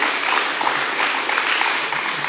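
Steady audience applause at a school awards ceremony, dense and even, with no clear individual claps standing out, continuing at a constant level throughout.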